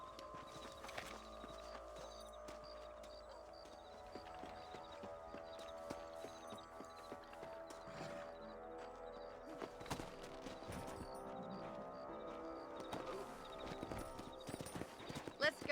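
Horse hooves clip-clop in a steady rhythm during a ride in the Red Dead Redemption video game, fairly quiet under a continuous game soundtrack and spoken dialogue.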